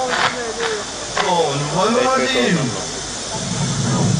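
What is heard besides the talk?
air hissing into evacuated hemispheres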